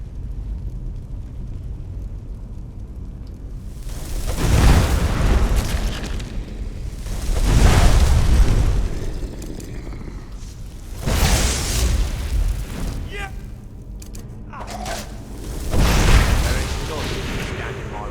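Big in-game explosion set off in modded Skyrim Special Edition during an underground dungeon crawl, heard as several deep rumbling booms a few seconds apart over a steady low background.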